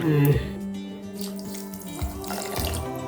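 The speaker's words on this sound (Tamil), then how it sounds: "இதில் 1/2 கப்புக்கு கொஞ்சம் கீழே தண்ணி விட்டுக்கோங்க." Water runs from a tap into a pan of sugar for syrup, a steady splashing pour that lasts throughout.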